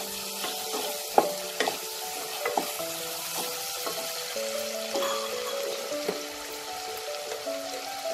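Chopped tomato fries with ginger and garlic in a pan for paneer pulao, giving a steady close sizzle with sharp clinks and scrapes from a spoon stirring throughout.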